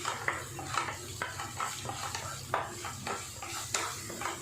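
Spices being stirred into samosa filling in a pan, a utensil scraping and clinking against the metal in repeated irregular strokes over a low background hum, close and fairly quiet, with no talking.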